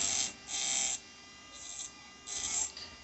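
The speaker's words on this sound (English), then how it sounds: "I will now install the CPU drive fan. You can see it is running at high RPM." A small CPU cooling fan powered from a DVD drive whirs at high RPM, its close buzzing whine surging and easing in pulses over a steady hum.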